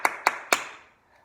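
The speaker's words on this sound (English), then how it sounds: "Give a little clap." Three quick, crisp hand claps, evenly spaced and close, with a short room decay after.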